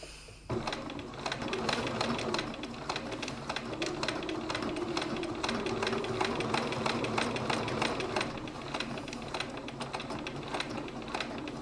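A sewing machine stitches a fabric body shell, giving a steady rapid mechanical clatter for about eleven seconds, close and fairly quiet, with no talking.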